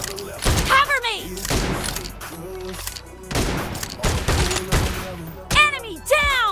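Blasts from an M1014 shotgun in a PUBG Mobile team deathmatch, fired repeatedly in loud, booming bursts at close range, mixed with in-game voice callouts and a music track.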